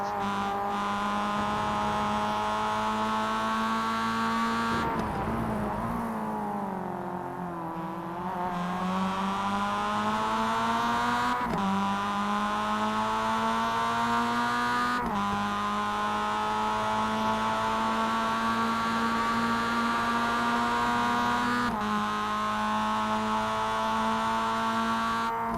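Race car engines rev hard in sustained high whines as the cars go light over the top of the corkscrew in a Roadster Rumble race, with pitch sweeps and shifts that repeat in long waves.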